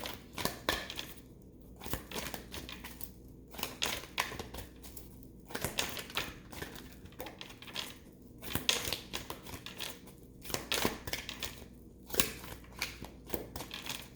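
Cards from an animal spirit oracle deck being handled and drawn, giving soft crinkly shuffling and papery flicks in repeated close bursts with brief pauses, with no talking.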